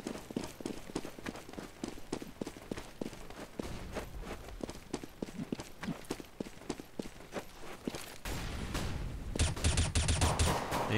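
Rapid bursts of gunfire and single headshot cracks from a Counter-Strike esports match, sharp repeated shots through most of the stretch with a denser, louder barrage near the end and no talk over it.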